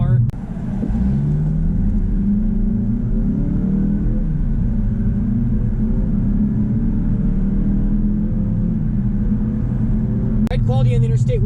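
A 2019 Mazda 3 AWD hatchback accelerating on the road, a steady engine drone with rising harmonic sweeps and road rumble heard from inside the cabin, with someone talking over it.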